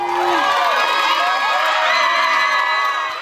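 A crowd of supporters cheers and whoops loudly just after a court session is adjourned, with high children's shrieks and dense shouting sustained throughout.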